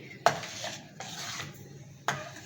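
Hot milk vermicelli being served into a dish, with a few distinct metallic scrapes and clinks of a spoon against the pan, spaced apart over a soft background, close and fairly quiet.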